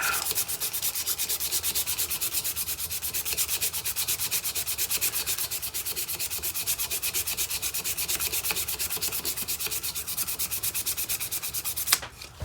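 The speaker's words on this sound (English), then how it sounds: "Same for sandpaper. I'm gonna level it out." Sandpaper rubbing across a sapele mahogany fountain pen blank, a fast steady rhythmic scratching of even back-and-forth strokes, close and continuous, ending with a brief knock.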